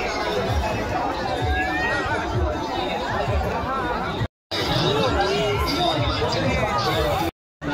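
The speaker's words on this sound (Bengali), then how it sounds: "সেই ভিড়টা আমাদের একবার দেখাবো, যে প্রচুর পরিমাণে ভিড়" Dense crowd chatter fills a busy fair, many overlapping voices murmuring and calling nearby in a constant hubbub, cut briefly by two short gaps.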